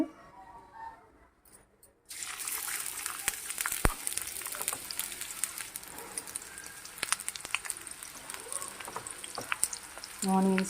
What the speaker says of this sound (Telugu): కొంచెం ఆయిల్ వేడైంది. ఇందులోనే ఆనియన్స్,